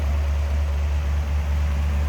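A 1956 Ford Thunderbird convertible's 292 V8 idles smoothly under the hood, a low, even rumble heard close up and alone, without any change in pace.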